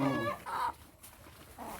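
A native hen clucks several times close by, loud at first and then trailing off into quiet.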